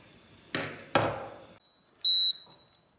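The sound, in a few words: cooking appliance timer signal beep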